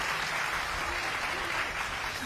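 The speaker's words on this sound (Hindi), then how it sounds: "एक बार ताली साहब बजा दो" An audience applauds steadily at a comedic Hindi poetry performance, a dense, continuous clapping that fills the whole moment with no pause.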